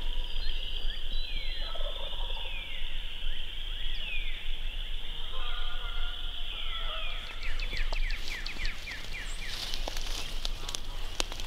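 Wild turkeys gobbling at dawn on Iowa public land during spring hunting season: several distant rattling gobbles repeat over a constant chorus of high songbird chirps.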